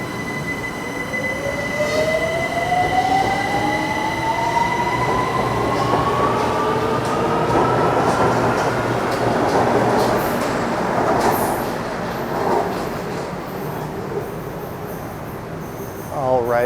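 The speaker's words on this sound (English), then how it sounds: "I'll resume recording when the SkyTrain is rolling in, and I'll just board the train" Bangkok SkyTrain pulling into an elevated station, loud and close, with rising wheel and motor whine, squealing rails and steady rolling rumble throughout, a brief voice faintly underneath.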